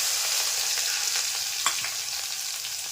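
Garlic and green chillies fry in a pan of hot oil with cumin for kadhi, giving a steady close sizzle with a few sharper crackles and a brief stir about midway.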